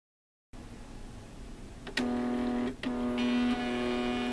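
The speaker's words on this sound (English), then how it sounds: "You can use a thermal printer like the Zebra 2844 set to 4x6 portrait orientation to do so." A Zebra 2844 thermal printer runs off a 4x6 box label, its motor whirring steadily at close range with a brief pause before the feed resumes; no one speaks.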